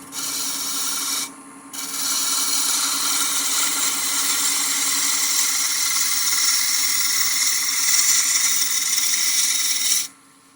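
A roughing gouge cuts a spinning wood blank on a lathe while turning a Christmas bell, giving a loud, steady hissing scrape that breaks off briefly near the start and stops at the end.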